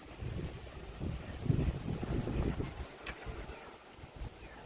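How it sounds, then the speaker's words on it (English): Strong wind in Port Elizabeth buffets the microphone, a rumbling, gusty roar that swells and fades throughout. "I hope you can hear above all this wind."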